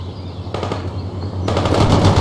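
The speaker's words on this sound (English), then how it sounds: "Set up that machine gun!" Machine gun fire in the World in Conflict video game, loud rapid bursts of automatic shots over a low rumbling battlefield drone, with a second, denser burst toward the end.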